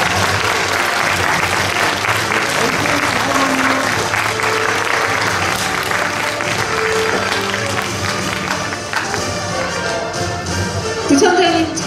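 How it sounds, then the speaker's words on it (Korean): Sustained applause fills an auditorium at an award presentation ceremony, a dense, loud crowd clapping steadily, with voices mixed in and the clapping thinning slightly near the end. "다시 한번 표창 수상하신 모든 분들께 축하의 박수 부탁드립니다"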